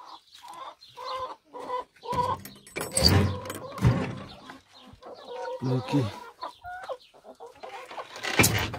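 Backyard chickens cluck and squawk in repeated bursts close by, mixed with a person speaking briefly.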